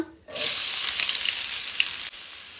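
Finely chopped onion hits hot oil in a pan for Goan potato bhaji, bursting into a loud, steady sizzle that holds for about two seconds before dropping back, with no talk over it.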